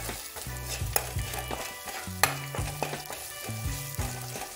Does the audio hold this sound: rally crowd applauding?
no